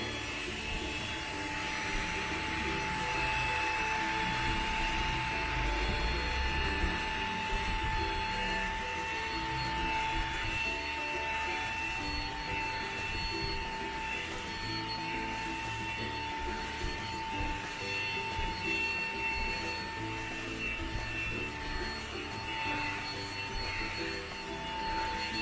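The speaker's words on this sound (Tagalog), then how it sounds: "I'll turn this on again, yung sa pinakamababa, and then let's do the vacuum." Xiaomi Mi Vacuum Cleaner Mini on its lowest setting makes a steady, close, high-pitched motor whir that runs unbroken for the whole stretch, with faint talk underneath.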